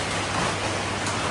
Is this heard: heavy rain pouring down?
yes